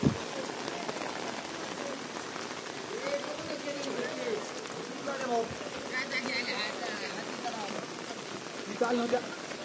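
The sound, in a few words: rain falling at Raigad Fort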